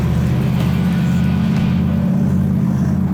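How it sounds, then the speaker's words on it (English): A restored classic muscle car engine rumbles loudly and close, a deep throbbing idle with a brief rise in revs, heard alone without talk. "She sounds like a muscle car should."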